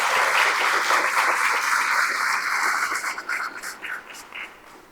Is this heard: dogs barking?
no